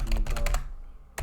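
Quick clatter of keystrokes on a computer keyboard, a short burst of several taps, a pause, then another tap, close and clear.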